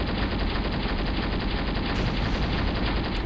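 Continuous rapid gunfire in the Graviteam Tactics war game, a dense unbroken rattle of automatic weapons filling the whole stretch at steady loudness with no pauses.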